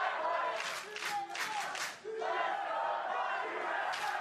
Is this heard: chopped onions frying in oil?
no